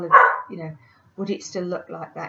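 A dog barks a couple of times nearby, short sharp yaps at the start and mixed in under a person talking indoors.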